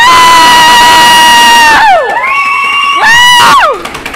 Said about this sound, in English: hear you guys scream and shout real quick?